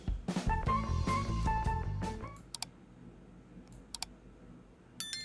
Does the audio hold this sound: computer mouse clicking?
yes